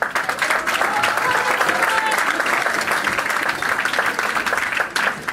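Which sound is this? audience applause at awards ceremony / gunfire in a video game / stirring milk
audience applause at awards ceremony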